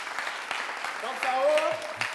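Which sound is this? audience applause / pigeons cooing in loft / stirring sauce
audience applause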